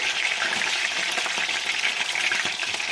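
Marinated chicken breast pieces fry in hot oil with a steady, dense sizzle and faint crackles, continuous and close throughout.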